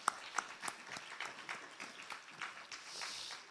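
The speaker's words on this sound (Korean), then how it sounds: "우리 첼로와 바이올린 또 피아노로 연주한 우리 또 자녀들에게도 한 번 더" Applause for children who played cello, violin and piano at a Sunday morning church service, a moderately distant round of many hands clapping steadily, fading slightly toward the end.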